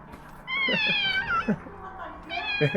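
A former stray cat meows several times up close, its calls rising and falling in a short run, while people talk and laugh around it.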